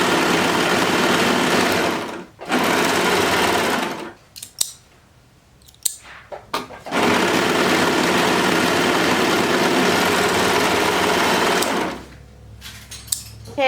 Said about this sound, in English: Okay, so I just sewn the sides.